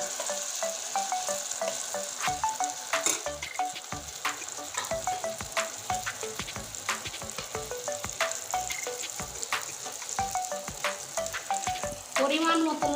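Chili paste fries in oil with browned onions, a bright, steady sizzle under frequent rhythmic clinks and scrapes of a spatula against the pan, close and unbroken, with no talk.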